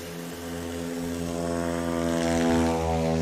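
A STOL tail-wheel propeller airplane flies at a practice event in Pinedale, Wyoming, its steady engine drone with strong harmonic tones building slightly louder over about three seconds, with no talk.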